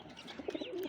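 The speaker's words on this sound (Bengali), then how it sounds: "এই যে আমাদের কাঁচভাঙ্গা চোখের খাকি কবুতর, এই মাদি কবুতর" A khaki female pigeon gives a brief, soft coo close by, a single short low call in a quiet room.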